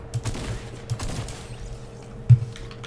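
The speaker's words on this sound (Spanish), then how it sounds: "Pues me están disparando." Gunfire in Fortnite rings out as scattered short shots at moderate distance, a few sharp cracks spaced irregularly over a low background hum.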